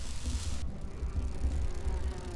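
Bees buzzing in the video game Grim Fandango Remastered, a steady low droning hum that holds for about two seconds at moderate level, with no speech over it.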